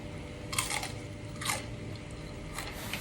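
Crunchy bites into crispy homemade peanut peyek (rice-flour cracker made with glutinous rice flour), three close brittle crunches spaced about a second apart, near and fairly quiet with no talking.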